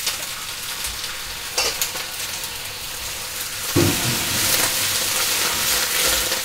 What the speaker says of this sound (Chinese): 下米粉， 再炒一炒